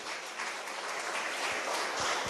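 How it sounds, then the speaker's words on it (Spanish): Church congregation applauding during a sermon, a steady dense wash of clapping that holds at even loudness from start to finish with no voices above it. "¿Cuántos pueden dar una ofrenda de aplausos al Señor?"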